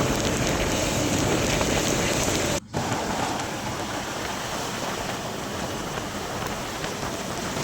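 Heavy rain pours on the Tirumala ghat road in a dense, loud, continuous roar close to the mic, cut by a split-second dropout near the middle before it resumes unchanged.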